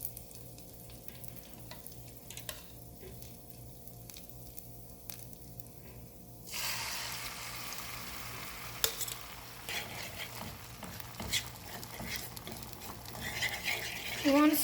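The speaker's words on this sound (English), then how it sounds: "Time to fry our egg." Egg frying in oil in a pan for chicken and shrimp fried rice, starting as a faint quiet fry before a louder burst of sizzle takes over and keeps crackling, with some stirring scrapes.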